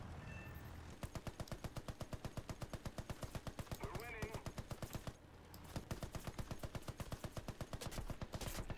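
Rapid machine gun bursts hammer away at Zeppelins in War Thunder's WW1 air combat, loud, close and rhythmic, with brief pauses between long strings of shots and engine drone underneath.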